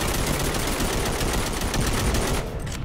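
Automatic fire from a Kalashnikov assault rifle in the tower defense game Band of Defenders, fighting orcs: loud, dense, continuous bursts of rapid shots with no pause or talk.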